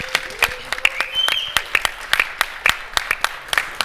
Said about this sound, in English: Let's give Kevin a round of applause.